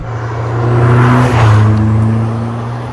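An Opel Speedster Turbo heard from inside the car on a twisty road, its engine droning loudly and climbing in pitch as the turbo builds boost, with a swelling whoosh over the steady mechanical hum.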